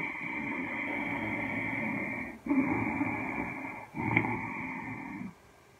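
A rasping, snore-like ujjayi pranayama throat breath drawn slowly and steadily, broken by two short pauses between long breaths, close and fairly loud.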